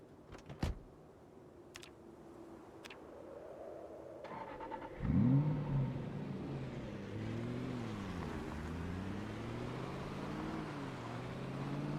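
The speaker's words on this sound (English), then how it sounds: "let's hop in our car and turn on the radio before I forget" A car door thuds, then the engine starts and the car pulls away, its engine note rising and falling through gear changes as it drives on at a steady moderate level.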